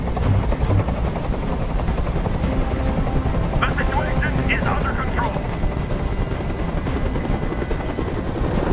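Helicopter in the video game Detroit Become Human, a steady loud rotor drone with dense low chop filling the scene throughout, while someone speaks briefly over it near the middle.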